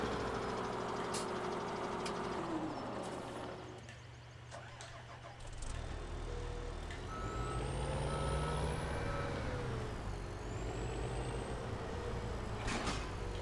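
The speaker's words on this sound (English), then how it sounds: "let me go grab the wheel loader real quick" Wheel loader in Farming Simulator 17 driving with a steady, loud engine drone, repeated reversing beeps and a brief dip in engine noise midway, with no talk.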